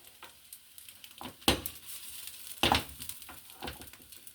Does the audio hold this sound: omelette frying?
yes